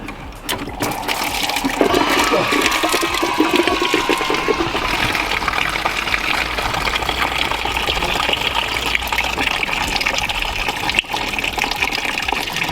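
Coolant gushing and splashing as it drains from the engine of a 1980 VW Rabbit Pickup during a coolant flush, a steady, close, continuous pour running the whole length without talk.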